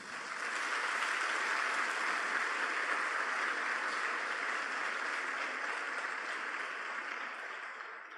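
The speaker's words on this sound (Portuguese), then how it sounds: "Dá um aplauso lindo para o Senhor." A church congregation applauds together in a steady, dense wash of clapping that holds evenly for several seconds and then fades slightly, fairly soft and distant with no voices over it.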